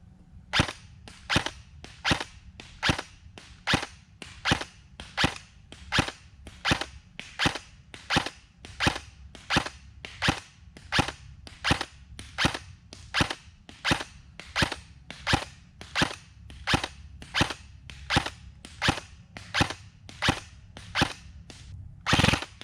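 A VFC HK416A5 airsoft rifle fires .30 gram BBs on an outdoor range, a long steady string of about forty sharp, evenly spaced semi-auto shots, close and loud with no talking.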